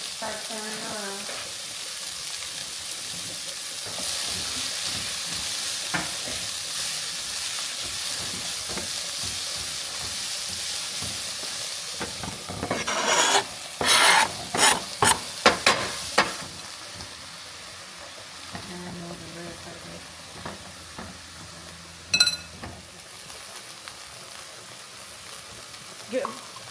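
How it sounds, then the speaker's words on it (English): Mushrooms fry and get stirred in a pan in a home kitchen, giving a steady hiss with a cluster of louder utensil clatters and scrapes partway through. "Add the mushrooms, all of them. Okay. Start stirring around."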